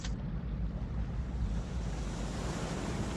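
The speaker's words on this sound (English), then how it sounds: "Oh, those are waves." Steady ocean surf rolling in, a broad continuous wash of waves with heavy low rumble and some wind buffeting the microphone.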